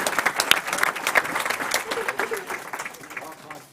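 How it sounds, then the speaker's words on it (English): Audience applause at a school board meeting honoring students, a crowd clapping with prominent individual sharp claps up close, some voices mixed in, and the clapping tapering off toward the end. "Let's give them one more round of applause."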